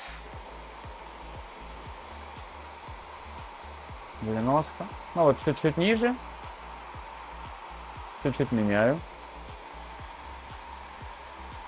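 A 1200-watt hair dryer on its cold setting at maximum airflow blows with a constant, steady whoosh throughout while a person speaks briefly over it.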